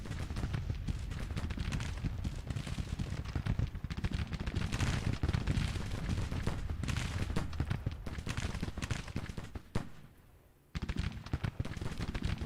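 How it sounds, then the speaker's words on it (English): A battery's artillery and musket fire from the Grand Tactician game crackles in dense, continuous volleys, a busy barrage of overlapping bangs that cuts out for a moment near the end before resuming. "Shoop is taking artillery fire from first battery over there."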